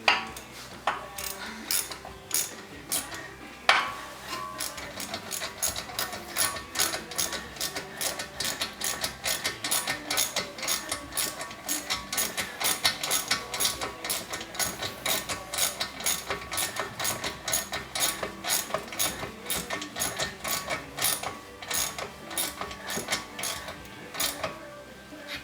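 Bolts are tightened on the rear brake of a 2014 Ford Fusion, producing a fast, steady stream of close ratchet clicks that runs on for about 25 seconds with a few louder knocks early on.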